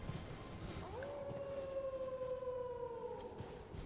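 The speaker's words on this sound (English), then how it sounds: "You just ride through this area, then you hear him do a big howl." A creature in the Elden Ring video game gives one big, long howl that rises, holds a sustained tone for about two and a half seconds and then fades, sounding distant and eerie over a low ambient rumble.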